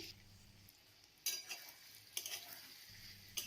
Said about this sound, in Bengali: 1 মিনিট আমি একটু নাড়াচাড়া করে নিচ্ছি।